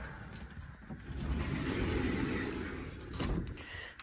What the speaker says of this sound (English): Then you got your sliding door.